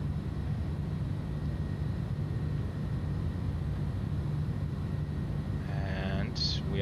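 Airbus A310 in Swissair livery taking off from Zurich in Microsoft Flight Simulator: a steady, loud roar of engines and rushing air that holds the whole time. Faint cockpit tones and short beeps sound near the end.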